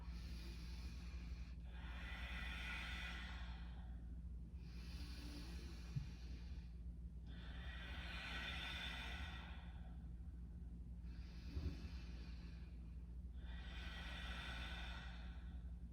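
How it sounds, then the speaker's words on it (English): Slow, deep Ujjayi breaths drawn in and pushed out through the nose during a kids' yoga session, about three long audible cycles of breathy hiss, close and steady over a low constant hum. "I'm just gonna breathe in and out through my nose."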